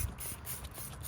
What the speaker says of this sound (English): I'm just gonna use this as dish soap in a sprayer. So just gonna spray